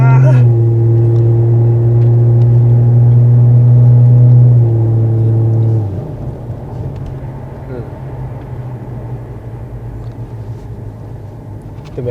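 Exhaust drone from a Toyota Crown Athlete JZS171 muffler while driving: a loud, steady low-pitched hum with engine tones that eases after a few seconds into a quieter road rumble.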